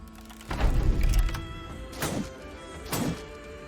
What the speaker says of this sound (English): An axe flying in a second later, cleaving a skull.